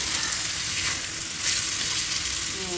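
Onions frying in hot oil as the base for a chicken gravy: a loud, steady, close hiss of sizzling that holds at an even level throughout, with no talk.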